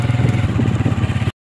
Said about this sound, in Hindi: हमारे पास है बाइक होंडा सिटी